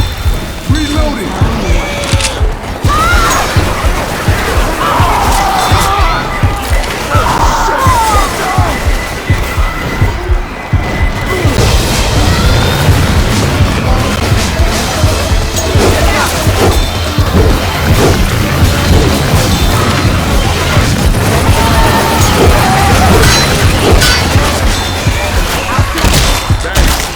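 Shotgun fire against zombies in Left 4 Dead 2 during a rainy level: repeated loud, sharp blasts and crashes over a constant hiss of rain, with chaotic game noise throughout.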